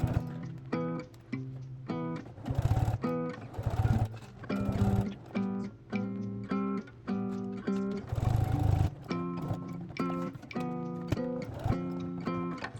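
Sewing machine stitching a strap and lace trim onto a small tote bag, running in quick repeated bursts of rapid needle chatter with short pauses between, steady and close.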